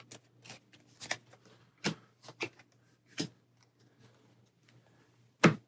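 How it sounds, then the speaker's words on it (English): A deck of game cards being shuffled on a table, a run of short, separate riffles and flicks spaced irregularly, with a sharper snap at the end, close and fairly quiet. "we'll give this a shuffle."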